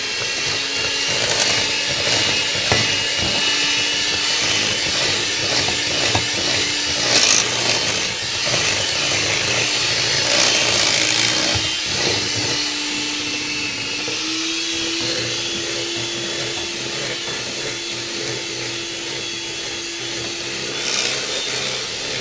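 Rum cake batter being mixed by machine, a steady whirring motor with scraping and rubbing of the bowl running continuously at close range, its pitch shifting slightly partway through.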